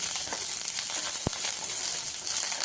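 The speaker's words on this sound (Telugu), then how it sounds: "10 వరకు పచ్చిమిర్చిని మధ్యలో ఘాటు పెట్టి వేయించుకోవాలి." Up to ten green chillies sizzle in a spoonful of oil in a pan for a ridge gourd chutney, a steady close frying hiss with a brief sharp pop midway.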